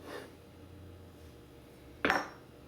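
A knife slices eggplant into quarter-inch pieces for eggplant parmesan. Quiet room tone carries a faint early scrape, then one crisp clack of the blade striking the board near the end.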